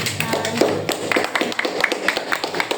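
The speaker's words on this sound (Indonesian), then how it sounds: "kita sekali tepuk tangan untuk" A classroom group gives a short round of clapping, with irregular hand claps and taps spread across the moment, fairly close and without talk over it.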